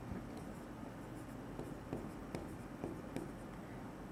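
A teacher writes a lake name on a board during a geography lesson, giving soft, faint, scratchy strokes in short irregular bursts over a low steady room hiss, with no speech.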